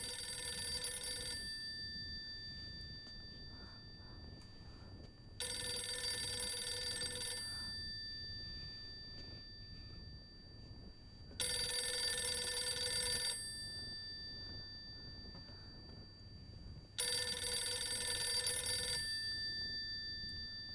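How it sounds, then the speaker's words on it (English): A telephone in the horror video game Silent Hill f rings in four separate bursts, each a loud electronic bell trill lasting about two seconds, with quiet ambient game sound between the rings. "Oh, phone's ringing."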